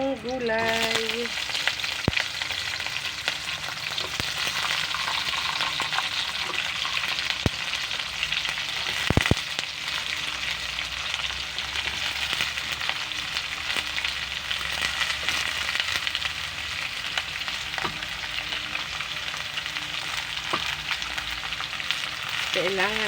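Vegetables for ginataang gulay sizzle steadily in a small pan, a dense continuous frying hiss with occasional sharp clinks and stirring knocks over about twenty seconds.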